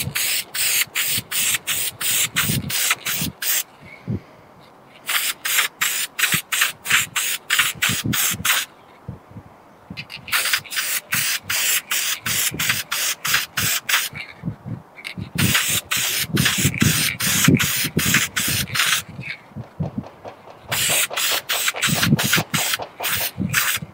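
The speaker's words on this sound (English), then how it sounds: "we're gonna coat it in oil." Oil is sprayed onto a CFMOTO air filter in repeated rapid bursts of hissing spray, grouped into several runs separated by short silent pauses, close and fairly loud.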